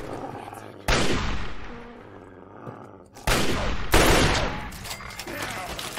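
Heavy gunfire aimed at mutants in Fallout 3: three loud, close bursts of shots, each cutting in sharply and then fading, with a quieter stretch between them.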